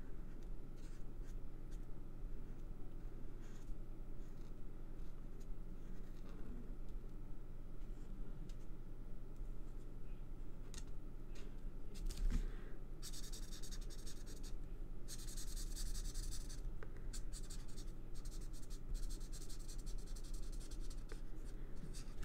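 Pen drawing on paper, a close, continuous scratchy scribble that keeps going with small bursts of faster, brighter strokes, over a faint low background hum and without any talk.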